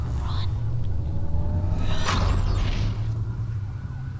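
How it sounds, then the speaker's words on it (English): Police sirens wail in the Watch Dogs video game during a city blackout, rising sweeping tones over a heavy low rumble with game dialogue heard around them. "That's a lot of sirens for a blackout."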